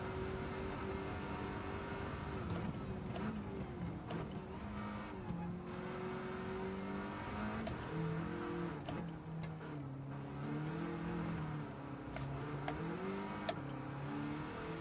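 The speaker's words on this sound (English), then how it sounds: "Yeah, Jimbo, this is the easiest car to do it with" A race car engine in Gran Turismo 7 revs and shifts continuously, its pitch rising and falling through gear changes with occasional tire squeal, loud and close with no talk over it.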